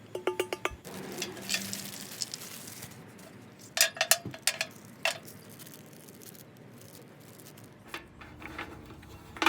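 Metal cooking grate of a Coleman Fold N Go portable grill handled during unboxing, giving scattered clinks and rattling knocks, some in quick bursts, close and moderately loud over quiet room noise.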